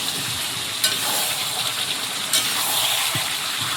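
Potatoes and pieces of duck meat fry steadily in plenty of rendered oil, a dense continuous sizzle with a few brief louder crackles and occasional stirring scrapes.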